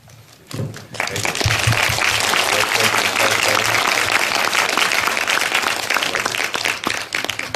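An audience at a Busan International Film Festival screening of Platoon gives director Oliver Stone a round of applause. It starts after a brief quiet moment, then becomes loud, sustained, dense clapping that lasts to the end.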